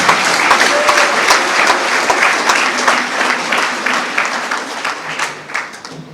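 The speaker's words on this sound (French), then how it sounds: "Applaudissements pour le Père." An audience applauds a priest at a church gathering, a dense wash of clapping that stays loud throughout and thins slightly toward the end.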